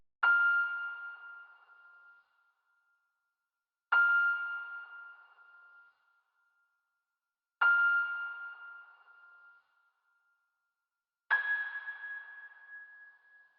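Four bright synth notes, each ringing out and fading slowly before the next, spaced evenly with silence between, the tone drifting gently from side to side through a Pancake 2 auto-pan plugin.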